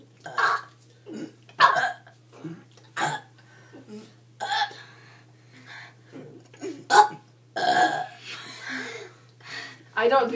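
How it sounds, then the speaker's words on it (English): Burps from a burping contest, a series of short, loud bursts spaced a second or two apart, mixed with vocal sounds and close-up talk between them. "Burping Contest"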